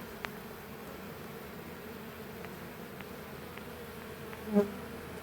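Honeybees fan at the entrance of a hive box after a swarm, giving a low, steady, continuous buzzing hum with a single bee passing close and loud near the end.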